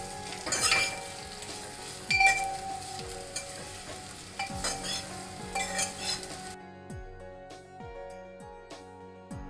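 Crispy bitter gourd pieces fry in panch phoron spices and red chilli powder in a pan, a steady close sizzle broken by stirring and clinks of a spoon against metal, then a quieter stretch of scraping taps.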